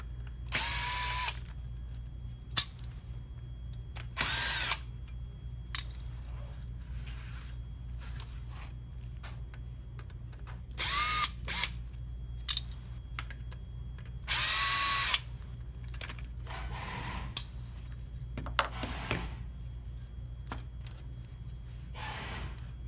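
Screws being backed out of a Toyota Prius navigation unit with a small power driver, several short whirring bursts spaced apart with quiet pauses between, close and fairly clear with no talking.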